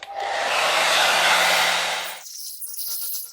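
A hair dryer blows loud and steady for about two seconds with a whooshing roar, then cuts off, leaving a faint hum.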